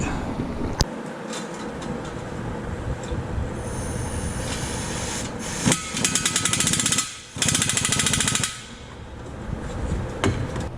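A pneumatic impact wrench rattles in several sharp bursts of rapid hammering, tightening exhaust bracket bolts on a BMW M4, loud and close, separated by brief pauses over a background hum.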